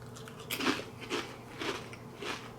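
Kettle spicy pimento cheese potato chips crunched in close bites, four or five crisp chewing crunches in a quiet room with no talking.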